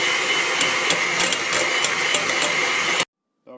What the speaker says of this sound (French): à l'aide du batteur électrique, on va défaire le tout en crème